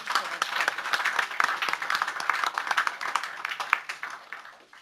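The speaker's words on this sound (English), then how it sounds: "let's give them another big round of applause" Audience applause at a school board meeting, a steady burst of many hands clapping in a room for about five seconds, fading slightly toward the end.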